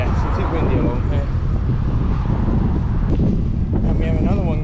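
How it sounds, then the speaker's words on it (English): Strong wind roars continuously against the microphone along a seaside seawall, a heavy steady rumble throughout. "It's not the worst winds I've ever had, but yes, it is windy along here."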